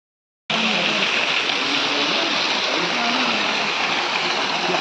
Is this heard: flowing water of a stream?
yes